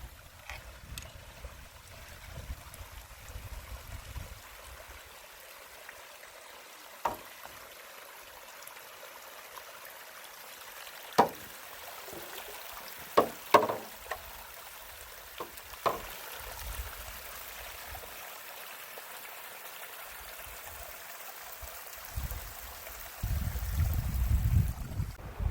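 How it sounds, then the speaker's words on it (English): Creek water trickles and flows beneath a paddleboard at the inlet of a cove on Sugar Pine Reservoir in the Sierra Foothills, a soft steady wash with scattered close splashes and knocks, and a louder burst of water near the end. "Some water flowing under me."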